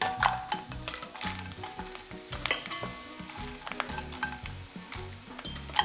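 Seaweed heads fry gently in a pan on very low heat, a faint continuous sizzle broken by soft stirring scrapes and light clinks against the pan.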